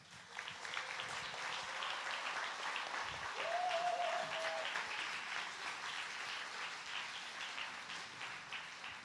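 A church congregation at a Korean worship service applauds to welcome a worship leader to the stage, with steady, moderately loud clapping sustained throughout and a brief voice or tone faintly heard midway.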